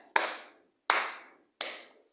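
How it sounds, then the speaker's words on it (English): Three single hand claps, sharp and close, evenly spaced with a short ringing decay after each and quiet in between. "let me give you a hand clap"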